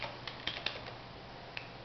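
Faint, sparse clicks of buttons pressed on a PSP handheld while entering a web address in its internet browser, a few quiet taps spaced irregularly over a soft background hum.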